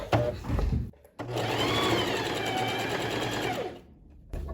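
Close up, a sewing machine backstitches and then runs a steady seam along the lining of a tailored vest, with short stops before and after the stitching and no voices.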